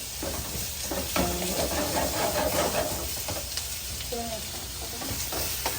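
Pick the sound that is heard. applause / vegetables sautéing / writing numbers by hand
vegetables sautéing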